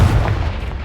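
The Confringo explosive spell cast in Hogwarts Legacy lands as a single loud, deep boom that dies away over about a second.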